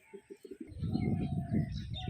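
Andra pigeons, a male and a female, giving a few short clipped notes and then a sustained, throaty rolling coo up close.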